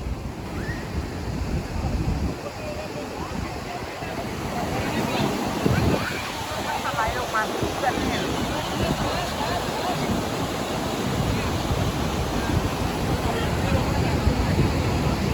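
Steady roaring rush of Tham Phra waterfall in Bueng Kan, Thailand, loud and continuous, with voices and shouts mixed faintly into the background.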